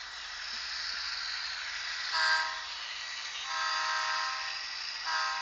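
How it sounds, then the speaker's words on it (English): Trains rolling along a railway with a steady rumbling hiss, broken by three bright horn or whistle blasts at intervals, heard from a moderate distance. "keep a close eye on these two trains"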